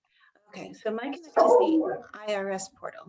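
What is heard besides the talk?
dog barking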